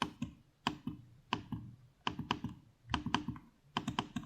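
Keys clicking on the keyboard of a 2025 Lenovo Legion 7 thin gaming laptop, quiet close taps in irregular small clusters, a few strokes at a time, with no voices.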